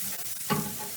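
Meat frying on a home grill gives a soft, steady sizzle, with a brief louder scrape and hiss near the middle as pieces are turned over.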